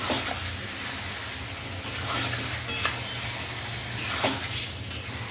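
Washed raw meat hits a pan of spiced masala and is stirred, a continuous sizzle with scraping stirs and a few soft knocks, heard alone without talk.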